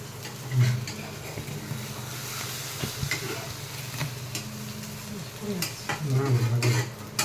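An egg fries in oil in a pan with a soft, steady sizzle, mixed with occasional stirring and scraping of utensils. Low voices murmur faintly underneath.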